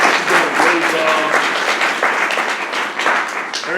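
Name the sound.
applause for office staff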